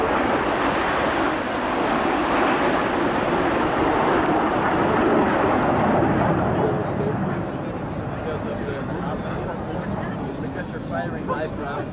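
BAE Hawk jets fly in formation at an air show, producing a loud continuous roaring whoosh that holds steady and then slowly eases, with a voice talking over it throughout.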